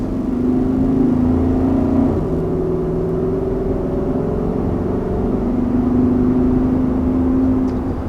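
A 2021 Infiniti QX80 SUV, rear-drive or four-wheel drive, cruising on a road, heard from inside as a loud, steady engine drone and road hum with slight pitch shifts, alone without talk.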